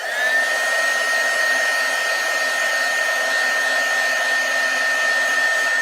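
A heat tool dries freshly stamped ink with a loud, steady, high whirring blow that runs unbroken from start to finish, close up.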